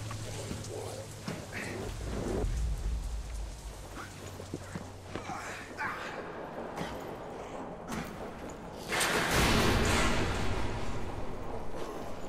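Rain falls steadily through a thunderstorm in the video game Deadlight, with low rumbling thunder and a heavier burst of downpour toward the end, with no talk over it.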